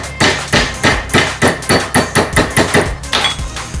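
Hammer blows straightening a slightly bent prong on a homemade metal ninja grappling hook, about thirteen sharp metallic strikes in a steady, fairly quick rhythm, close and loud with no talking.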